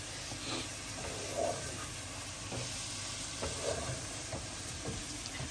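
Chicken karahi masala fries in a handi pot with a soft, steady sizzle, quiet and close, broken by occasional stirring scrapes and small pops.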